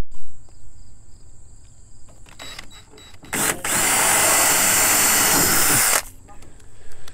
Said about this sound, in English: We'll do a little pilot hole first. We'll get in there with a regular size bit.